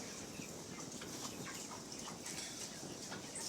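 Jamaican game fowl roosters outdoors, with faint, distant clucking and bird sounds over a steady background hiss; no one speaks.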